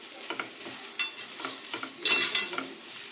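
Spiced bhujiya filling fried in a pan, a light sizzle under quick, close scraping and stirring strokes at an uneven pace, with a louder burst of frying and scraping near the end and no voices.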